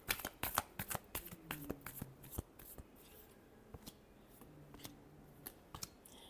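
Tarot cards are shuffled by hand in quick, crisp bursts, loudest early on and then in sparser riffles; it sounds close but fairly quiet, with no talking.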